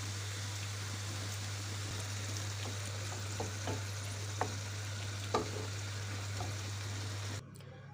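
Creamy mushroom sauce with red pepper flakes and cream sizzles steadily in a pan, a close, even crackle over a low electrical hum, with a few soft utensil taps and no talking.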